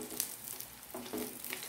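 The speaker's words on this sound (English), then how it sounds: "this is a quick type of cooking, of frying fish." Faint crackling sizzle of rabbit fish (danggit) frying in a pan, soft popping bursts coming and going over a quiet background.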